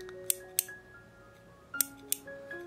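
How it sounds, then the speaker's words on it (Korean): Large-handled pruning shears snip a few times in a quiet room during preserved-flower framing craft work, giving sharp, brief clicks in two close pairs with soft handling noise between them. "손잡이가 굉장히 큰 전지 가위가 들어있고요"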